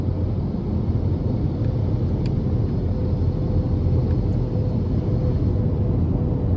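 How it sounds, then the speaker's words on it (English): Steady low road roar inside a 2023 Ford Escape Active with a 1.5-litre turbo three-cylinder, cruising on an older stretch of interstate. The broad tire and wind hum stays constant throughout, with no voices. "Just hearing a little bit of road noise here, but this is an older stretch of interstate."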